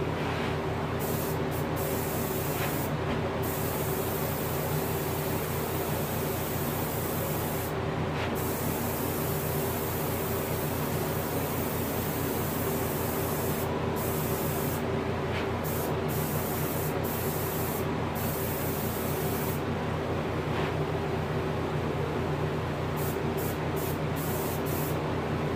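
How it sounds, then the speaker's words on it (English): An airbrush spraying paint onto a rainbow trout taxidermy mount: a continuous close, even hiss of spray, with brief breaks where the flow pauses. "I just let my airbrush take care of that."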